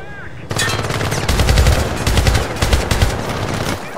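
Sniper rifle shots and other gunfire crack out in the 2012 PC shooter Syndicate, a dense, loud volley of rapid bursts that starts abruptly after a brief quiet opening and carries on continuously to the end.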